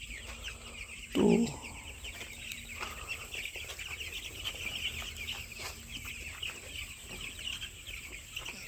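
A dense, steady chorus of chicks chirps in a poultry shed, running through the whole stretch with a short spoken word near the start.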